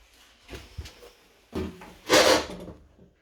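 A wooden cupboard door or drawer is opened and closed during a rental property inventory, with several rubbing, scraping knocks and one louder sliding scrape.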